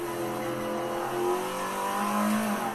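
An Alfa Romeo 33 Stradale engine in Assetto Corsa on the Nordschleife revs steadily in first gear, its pitch rising and falling as it accelerates, heard close with a buzzy tone.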